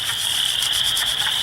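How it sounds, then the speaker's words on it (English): Frogs and spring peepers sing outdoors in early spring near water, a dense chorus of high, piercing peeps with rapid pulsing trills over a steady backdrop. It carries on steadily from a moderate distance with no talking. "I'm sure you can all hear all the frogs and little peepers singing away"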